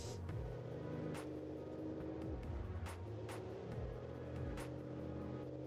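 Engine of a 6x6 monster truck in BeamNG.Drive, a large radial unit of about 1830 cubic inches, running steadily with a deep layered drone and shifting pitch throughout, loud and close with no talk.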